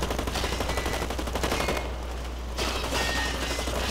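Rapid automatic gunfire from the online shooter game Blacklight: Retribution, dense and continuous bursts over a steady low hum, briefly easing in the middle before the shooting resumes.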